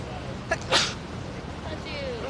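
A single sharp human sneeze bursts out loud and close, preceded by a smaller catch of breath, over a background of low outdoor murmur and faint voices.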